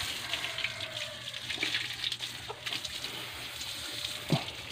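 Water gushes strongly from a tap in a continuous, fairly quiet rush, with occasional splashes and faint background sounds.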